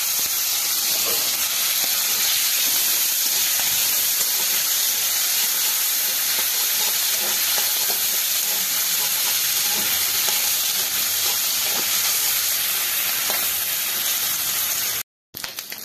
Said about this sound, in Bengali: এবারে এই যে মাছের তেলটা আছে এই মাছের তেলটা ওটাতে ভেজে নেবো